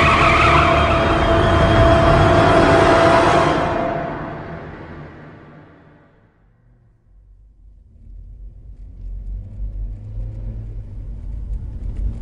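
A car veers off the road as a dramatized sound effect: a loud rushing, skidding roar fades away over several seconds, then a low rumble builds again.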